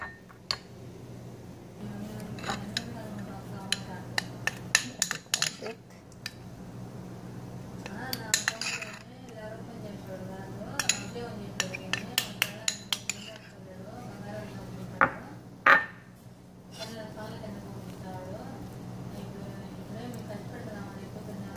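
Utensils mixing tomato sauce into dough, with repeated sharp clinks and scrapes of metal on a bowl coming in irregular bursts while someone talks throughout.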